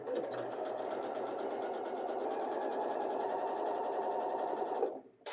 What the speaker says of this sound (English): Sew a couple inches of zigzag.